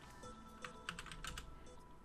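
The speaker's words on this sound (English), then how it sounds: "you can type the command out like this" Keys clatter on a computer keyboard as a terminal command is typed, a quick uneven run of close, crisp clicks over a faint steady background hum.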